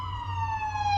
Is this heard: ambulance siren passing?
yes